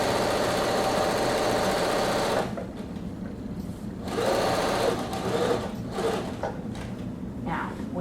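Sewing machine stitching fabric body pieces, running in a fast continuous burr for a couple of seconds, then in shorter bursts with brief pauses, close and fairly quiet.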